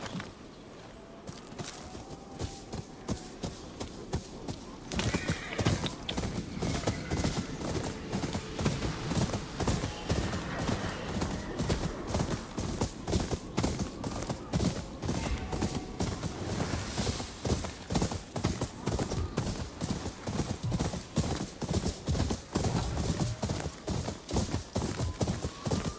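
Horse hooves clip-clop steadily in a Ghost of Yotei video game, a fast, continuous rhythmic gallop of dense hoofbeats lasting throughout, loud and close with no talking over it.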